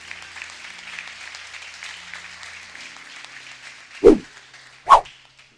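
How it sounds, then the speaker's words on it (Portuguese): A church congregation applauds during a worship service: a steady wash of clapping, fairly soft, broken near the end by two sharp, loud percussive cracks. "você pode aplaudir o Senhor mais uma vez?"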